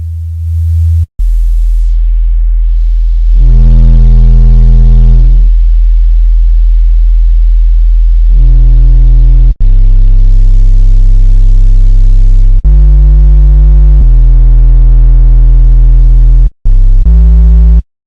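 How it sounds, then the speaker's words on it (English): A synthesized bass made from white noise layered over a bass tone and run through a distortion unit plays as loud sustained buzzing notes, separated by short breaks, with no voices over it. "I'm just going to make a simple bass sound by having white noise over top of a bass"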